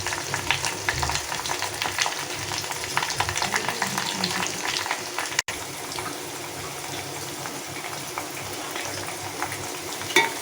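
Onion pieces and hibiscus flowers, with fenugreek seeds, heating in oil in a pan, giving a constant hissing sizzle with a brief knock midway. Close and even throughout, with no speech.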